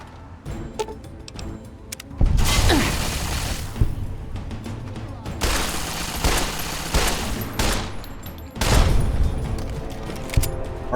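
Mark II turret opening fire in Fallout: Tale of Two Wastelands, sustained rapid bursts of gunfire in three long loud volleys separated by brief quieter gaps.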